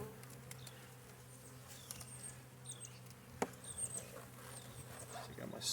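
Honeybees buzz around an active hive on a February day, a soft, steady drone with individual bees whining past nearby, while a person speaks quietly in the background.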